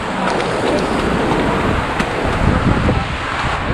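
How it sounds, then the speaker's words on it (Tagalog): Strong typhoon wind from Typhoon Florita in Baggao, Cagayan roars as a steady, loud broadband rush with gusty surges and microphone buffeting, continuous throughout. "Nakita nyo naman yung hangin guys. Sobrang lakas."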